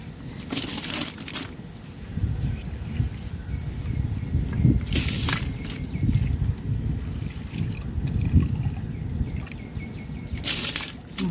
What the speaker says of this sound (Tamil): ஊற வச்ச ரைஸை நம்ம போட்டுக்கலாம்.